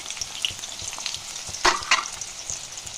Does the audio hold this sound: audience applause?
no